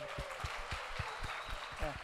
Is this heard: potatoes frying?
no